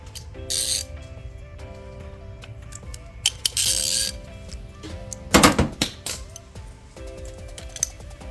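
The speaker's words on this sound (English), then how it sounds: "let me grab a ratchet and I'll be back" Ratchet clicks in short rhythmic bursts while tightening a nut on the passenger side motor mount of a 2013 Nissan Altima 2.5L, close and fairly loud, with pauses and faint metallic clinks between strokes.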